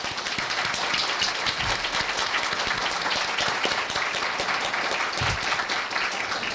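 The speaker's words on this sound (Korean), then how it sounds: "다 같이 큰 박수로 감사를 드렸으면 합니다" An audience claps steadily at a Korea University retirement ceremony honouring a chemistry professor, with dense, even applause filling the hall and occasional low thumps.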